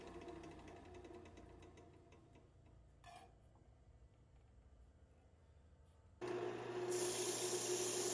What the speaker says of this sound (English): I flatten the top, do some sanding, and remove the piece from the lathe